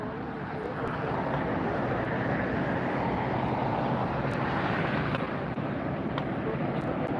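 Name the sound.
Condor widebody airliner at LAX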